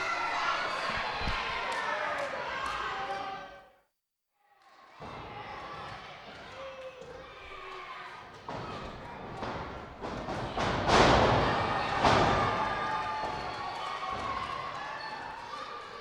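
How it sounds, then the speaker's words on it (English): A pro wrestler stomps on an opponent on the ring mat: a run of heavy, sharp thuds landing in quick succession over a rowdy, cheering crowd, with a brief dropout partway through. "Now Hadley's stomping on Gabe."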